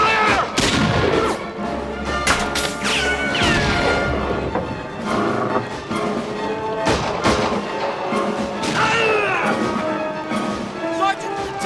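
Gunfire exchange in a 1916 German East Africa film battle scene aboard a boat, repeated loud bursts and crashes mixed with shouted dialogue and music throughout.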